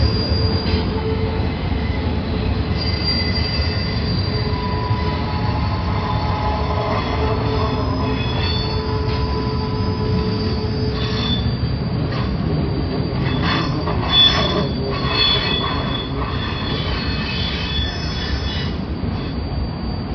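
A southbound freight train on the Palmdale Cutoff at Cajon Junction rumbles steadily past nearby, with high metallic wheel squeals ringing out over the continuous roar of rolling cars.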